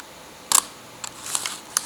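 A Leica IIIa camera shutter fires at 1/30 second, a sharp close mechanical clack followed by a few lighter clicks and rattles of the mechanism in a quiet room.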